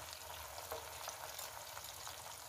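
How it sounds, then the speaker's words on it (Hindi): Lemon boti meat pieces frying in a pan over low heat, giving a steady, fairly faint sizzle and crackle that runs evenly with no talking. "इस साइड से भी हम 2 मिनट तक फ्राई करेंगे।"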